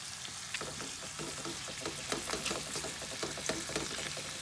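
Shrimp sizzling in garlic and olive oil in a pan, a dense continuous frying hiss with scattered pops and crackles, close and steady throughout.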